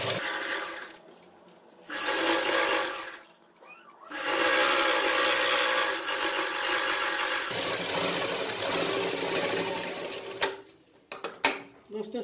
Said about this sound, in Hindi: इसको हम सिलाई लगाएंगे